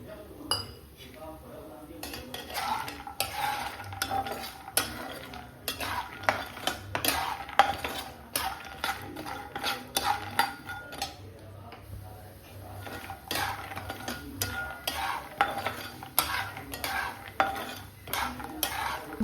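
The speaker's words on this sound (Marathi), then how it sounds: "सो चांगले बदाम फ्राय करून घेऊयात" Almonds are dry-roasted and stirred in a pan over a low flame for dry fruit laddus, with repeated scraping strokes and light metallic clinks of a spoon against the pan over a soft sizzle.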